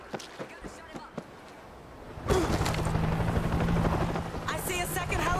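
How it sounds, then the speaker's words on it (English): Helicopter in the World War Z Aftermath game, New York level, arriving as a loud, steady rotor drone that starts abruptly partway through, following sparse gunfire and thumps, with speech mixed in. "I see a second helicopter."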